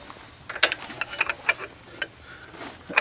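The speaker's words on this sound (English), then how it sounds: "It's my breaker ratchet. All you got to do is add a pipe a little over it." A breaker ratchet fitted with a cheater pipe works a tight bolt loose, giving a series of close, sharp metallic ratchet clicks in uneven bursts, with no talk.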